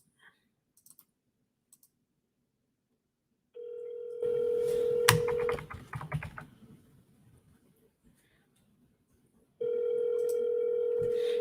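Over speakerphone, a steady ringback tone sounds, then breaks off into clicks and rustling handling noise before the tone resumes; faint and alone, with no talking.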